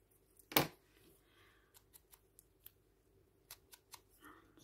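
Scissors cut paper for a junk journal pocket: one loud close snip, then a series of quieter, short, irregular snips and paper rustles in a quiet room.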